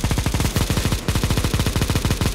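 Rapid, continuous automatic gunfire rattles loudly and steadily, with a brief break partway through, from Counter-Strike: Global Offensive, a competitive match on the Inferno map.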